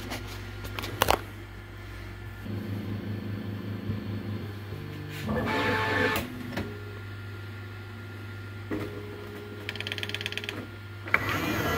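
Bambu Lab X1 Carbon 3D printer's AMS filament feeder running with a faulty first-stage feeder, steady motor hum and whine with intermittent clicks, whirring feed bursts and ratcheting, close and moderately quiet.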